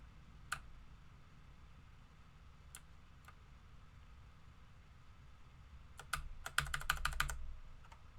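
Typing on a computer keyboard, with a few sparse, faint key clicks early on and a quick cluster of taps near the end over quiet room hiss.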